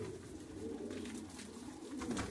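Racing pigeons cooing softly in a loft during breeding season, low murmuring calls that overlap and stay faint and close.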